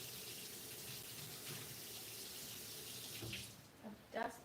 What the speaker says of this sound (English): The spatula I have not used in a long time, so I'm going to rinse it.